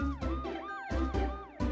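A police car siren wails in repeating rising and falling sweeps, steady and fairly close, with no talking.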